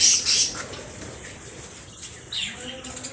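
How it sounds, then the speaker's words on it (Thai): Budgerigar chirps and high twittering calls, a few quick bursts near the start and again toward the end, over a soft background hiss. "นกหงยก"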